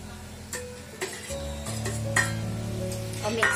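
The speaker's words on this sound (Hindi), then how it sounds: "अब इसमें पनीर डाल देंगे" Paneer cubes tipped into a pan with capsicum and stirred, a steady sizzle of frying under clinks and scrapes of a utensil against the pan.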